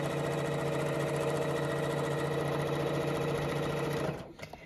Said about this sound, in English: I'm going to go back to my straight stitch on this.